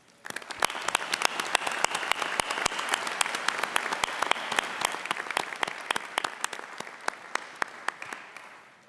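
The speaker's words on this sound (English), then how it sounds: "Please honour them with your applause." Sustained applause from a university graduation audience honouring new graduates at a ceremony in Sydney, with distinct sharp claps close by over a dense, steady crowd of clapping hands.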